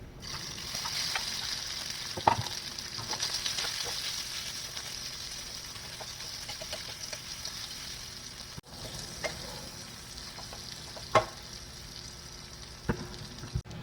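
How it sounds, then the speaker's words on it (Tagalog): Square-cut diced ham fries in a pan with a soft, steady sizzle, broken by a few sharp clicks and scrapes of a utensil against the pan. "ipiprito ko yung ham para maluto siya"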